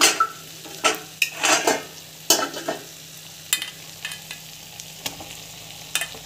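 Soaked flattened rice (aval) being sautéed in a pan gives soft sizzling under repeated scraping strokes of a spatula against the metal, irregular but steady, close and moderately loud.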